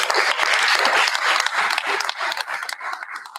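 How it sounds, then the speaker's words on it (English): A school board meeting audience gives another round of applause for the Shelby School students of the month, with steady clapping throughout that thins a little toward the end and some voices mixed in. "Another round of applause for the Shelby School students of the month."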